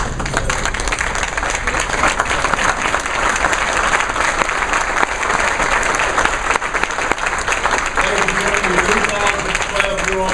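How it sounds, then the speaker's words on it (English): A luncheon crowd honoring scholar athletes at the Allstate Sugar Bowl event bursts into sustained, loud applause that holds steady for about ten seconds, dense clapping filling the room with a murmur of voices underneath. "Big round of applause"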